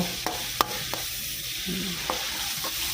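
Clams stir-fry in a pan with roasted chili paste, a steady close sizzle broken by a few sharp clacks of the utensil against the pan, with no one talking.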